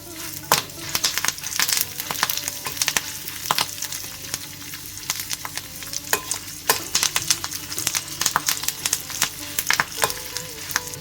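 Byadgi chillies, urad dal and curry leaves fry in a tablespoon of oil, crackling and sizzling steadily close up, with sharp pops and spoon stirs scattered throughout.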